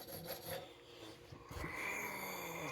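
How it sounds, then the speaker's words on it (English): A hand file rasps across brass rods from chainsaw carburetors (G366/MS460 type) clamped in a bench vise, giving quiet, continuous scraping strokes with no talking. "it's hard to get a full sweep with my file because my knuckle keeps hitting the stupid vise"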